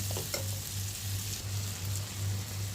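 Tomato and salt fry in a pan for a dried fish curry, a steady soft sizzle with light stirring scrapes, close and continuous, with no voices.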